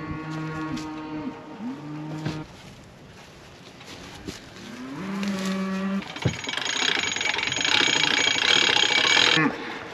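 Cattle moo at a winter hay feeding on a farm, several drawn-out calls in the first half, then a louder mechanical whirring hum, likely hay being unrolled, builds and runs until the end.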